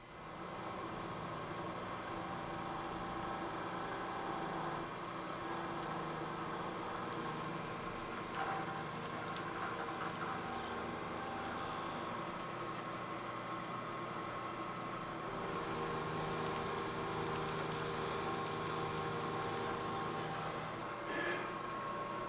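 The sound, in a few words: milling machine clearing material with a 1/2 inch end mill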